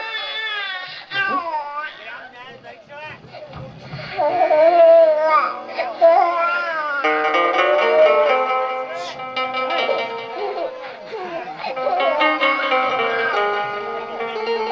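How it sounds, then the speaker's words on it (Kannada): A wailing cry rises and falls in drawn-out, high-pitched bursts, sounding like an infant crying, mixed with voices and music during a Kannada stage play. "ಮಗುವಿನ ಅಳುವ ಧ್ವನಿ ಕೇಳ್ತಾ ಇದೆ"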